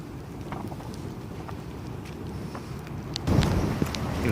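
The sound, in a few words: strong wind of Hurricane Doris outside a polytunnel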